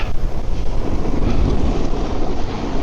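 Strong wind buffets the microphone outdoors during a board session, a loud, steady roar of rumbling gusts filling the whole clip.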